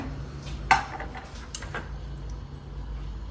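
A pot of boiled potatoes being set down in a home kitchen, one sharp metallic clunk near the start followed by faint shuffling and soft knocks against a low, steady background hum.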